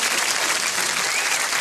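Studio audience applauding on a celebrity comedy panel show, a dense, steady wash of clapping that stays loud and even for the whole short stretch.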